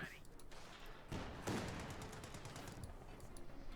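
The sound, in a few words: gunfire sniping a light tank, from video game Company of Heroes 2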